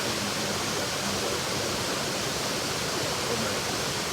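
A tall waterfall, roughly 30 to 40 meters high, in Eldama Ravine, Baringo County, roars as a steady broadband rush of falling water, dense and unbroken throughout.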